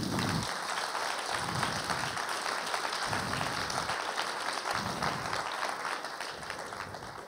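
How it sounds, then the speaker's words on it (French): An audience claps steadily and warmly at a regional final of the three-minute thesis contest, applauding a cancer research presentation; the dense, even clapping fills the hall for several seconds without a break. "On peut l'applaudir, s'il vous plaît, c'est important"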